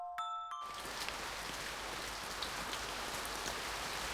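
Steady, dense pouring rain ambience from the visual novel game One, a continuous wash of falling drops after a brief chime-like tone at the start, with no voices.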